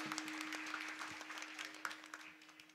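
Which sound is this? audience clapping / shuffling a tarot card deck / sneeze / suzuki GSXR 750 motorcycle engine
audience clapping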